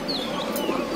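Pigeons cooing in a breeder's loft in Paikgacha, Khulna: soft, low, continuous murmuring coos with a few faint higher chirps, steady and fairly close throughout.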